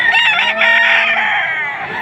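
A nine-month-old rooster at a poultry market in Padre Garcia, Batangas, gives one loud, close crow that holds steady for about two seconds, with no talk over it.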